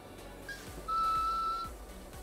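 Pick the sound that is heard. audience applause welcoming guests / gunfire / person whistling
person whistling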